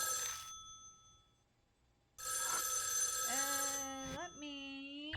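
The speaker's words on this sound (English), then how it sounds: "Someone or something wants us to answer the phone" A telephone rings inside the video game Spirit Hunter NG with bright electronic tones that repeat steadily and loudly, broken by short pauses, and no one speaks over it.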